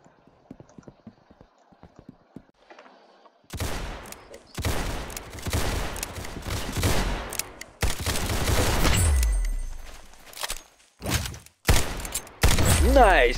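Rapid gunfire bursts in the Roblox shooter Arsenal, loud and dense, starting after a few quiet seconds and running in clustered volleys with brief gaps, mixed with game effects.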